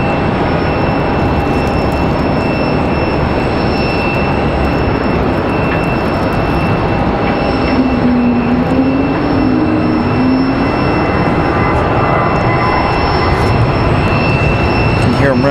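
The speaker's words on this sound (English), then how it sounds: "You can hear them running down the runway." An airliner rolls down the runway on its takeoff run at Raleigh-Durham International Airport, a steady broadband engine roar heard from a distance that holds level throughout.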